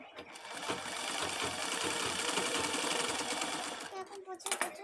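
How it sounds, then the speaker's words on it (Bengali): A sewing machine runs steadily while stitching up holes in a torn mosquito net, close and continuous for several seconds, then slows and stops with a few clicks near the end. "এবার সেলাই করব।"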